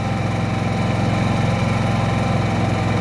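A small Senci SC9000i inverter generator running in economy mode drones steadily at close range, a constant low rumble with a fine rhythmic pulse and no voices.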